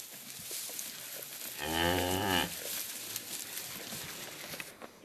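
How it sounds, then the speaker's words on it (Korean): A newborn calf in a winter barn near Song-Kul lake in Kyrgyzstan's Tian Shan mountains lets out a single short moo, close and clear, amid quiet rustling stable ambience. "얼마 전 알트나이의 생일에 태어난 송아지다"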